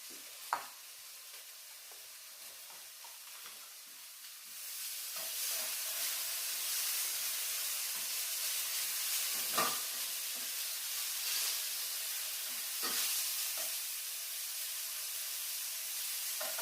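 Chicken and bacon pieces sizzle in a frying pan in a soft, steady hiss that swells after a few seconds. Occasional stirring scrapes and clicks rise above it, and no one speaks.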